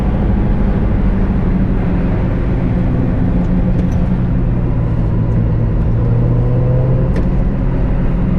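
A 1991 Mazda Miata's engine roars steadily and loud from inside the car as it is driven flat-out through a corner at sunset, a dense continuous drone with a rising pitch sweep and no voices over it.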